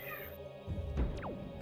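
A pet cat lets out a short meow close to the microphone, a quick rising-then-falling cry over a faint background hum.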